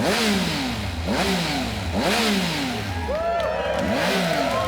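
A new 2018 Triumph Speed Triple S motorcycle engine is blipped in four quick, even revs close by. Each rev is a sharp rising and falling snarl, loud and alone.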